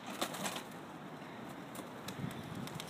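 Tippler pigeons are released outdoors. A few soft wing flaps and faint cooing rise over a low, steady background, with no talking.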